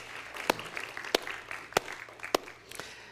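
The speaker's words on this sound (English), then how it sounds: "Let's give them another round of applause." A church congregation applauds after the music, with a handful of sharp, separate claps at a steady rhythm. The clapping sounds sparse and fairly close, with no talk over it.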